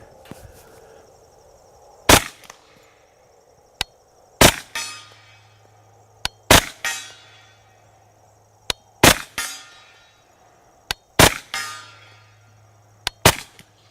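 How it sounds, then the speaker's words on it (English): A Kriss Vector submachine gun fires at steel plates outdoors in about six sharp bursts, each loud crack followed by metallic ringing of struck steel, spaced a couple of seconds apart with quiet pauses between. "let's try a couple of these steel plates in front of me here"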